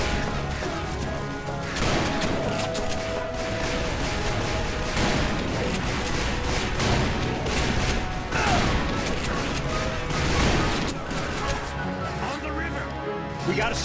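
Dense, sustained gunfire from a boat and explosive booms in the video game Call of Juarez: Bound in Blood rumble throughout, with crashes and bursts layered over a constant loud battle din and occasional voices.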